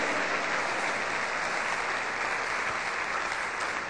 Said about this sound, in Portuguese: Quer dar um aplauso ao Senhor? Aplauda ao Senhor.